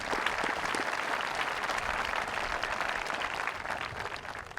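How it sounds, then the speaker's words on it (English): Sustained applause from a graduation crowd honoring families at a 2017 high school ceremony, dense steady clapping that fills the whole stretch without letting up. "A round of applause for families."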